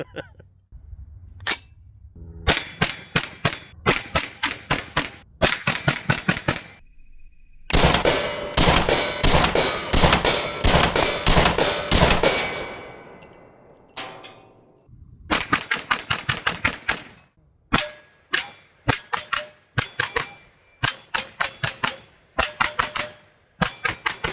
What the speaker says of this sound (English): I'm more worried about shooting my camera than hitting these steel targets.